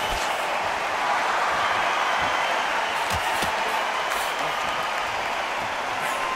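Arena crowd murmur from the boxing game Undisputed, a steady broadband buzz with faint scattered claps, holding an even level throughout.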